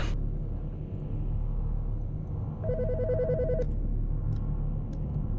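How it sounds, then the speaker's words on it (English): An electronic telephone rings in the video game Autopsy Simulator, one repeated trilling burst heard alone over a low constant background rumble, with a faint click afterward. "The fucking phone."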